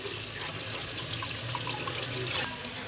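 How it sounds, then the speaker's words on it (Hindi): Clean water runs and sloshes steadily as urad dal is rinsed in a kitchen, a soft continuous trickle that cuts off abruptly near the end. "दाल को बहुत अच्छे से आप लोगों ने साफ़ पानी की हेल्प से धोना है"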